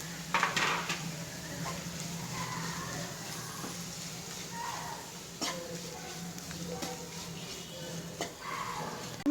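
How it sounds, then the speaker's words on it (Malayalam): A spoon scraping and clanking against a pan while masala with turmeric powder is stirred and mixed, giving irregular metallic taps and scrapes at moderate volume with a faint sizzle beneath. "നല്ലോണം മിക്സ് ചെയ്യാം."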